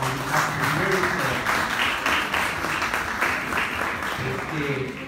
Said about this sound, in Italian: a lui va un grosso applauso da parte di tutta la comunità pugliese